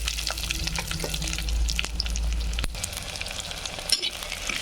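Sliced small shallots hitting a hot pan after fried vadagam seasoning balls for a village river fish curry, giving a steady broadband sizzle with stirring scrapes and a low rumble underneath, no voices.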